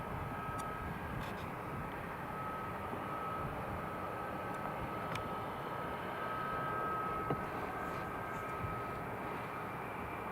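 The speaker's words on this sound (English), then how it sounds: "A350 just taxiing." An Emirates Airbus A350 taxiing at Newcastle International Airport gives a steady, distant jet-engine whine and rumble, even and unbroken, over a constant background hum with no talk.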